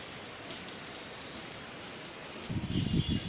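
Rain falls steadily on outdoor surfaces, a continuous soft patter heard at moderate distance. Toward the end, heavier drips hit something nearby with a louder, lower splash.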